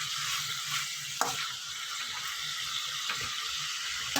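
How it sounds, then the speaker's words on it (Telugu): Brinjals seasoned with salt and turmeric sizzle and fry steadily in a pan for curry, a continuous close hiss with a few soft stirring knocks. "ఇట్లా వంకాయలు మగ్గనిద్దామండి. ఇట్లా చక్కగా వంకాయలు మగ్గించుకుందాం."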